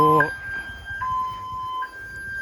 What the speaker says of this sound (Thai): เสียงเตือนนะครับ เมื่อเปิดฝานะครับ ดัง